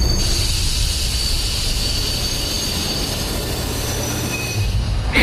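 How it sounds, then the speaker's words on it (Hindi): A train pulls into a station and slows to a stop, with a loud steady rumble of wheels on rails and a faint high squeal running throughout, alone without any voices. "तभी अजीत को दूर से एक ट्रेन आती दिखाई देती है। ट्रेन स्टेशन पर आकर रुकती है।"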